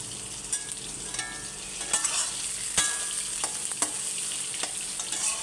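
Soybean chunks and potatoes fry in a pan with a steady close sizzle, broken by occasional scrapes and clinks of stirring and no voices.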